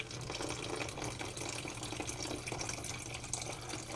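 Water is poured into a bowl of plaster powder for mixing, a steady splashing pour that runs loud and close throughout, with no talk over it.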